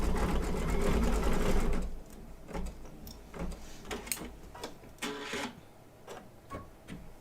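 An embroidery machine stitches a patchwork pet quilt block. A fast, dense mechanical chatter opens the clip, then eases into lighter, intermittent ticking stitches, close and steady.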